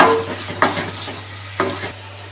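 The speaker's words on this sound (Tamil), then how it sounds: "கொஞ்சம் உப்பு போட்டு நல்லா வதக்கிக்கலாம்" Tomatoes with salt sautéed in a pan give a soft sizzle punctuated by three or four scraping strokes of a spatula, with a constant low hum in the background.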